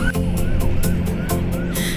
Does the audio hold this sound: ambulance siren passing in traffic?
yes